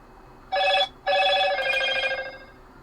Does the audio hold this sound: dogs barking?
no